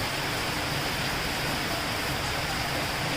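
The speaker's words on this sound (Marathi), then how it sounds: "बघा किती छान पाऊस चालू आहे." Heavy rain pours down over Akola city, a dense, steady broadband hiss that stays constant and loud from start to finish with no talk.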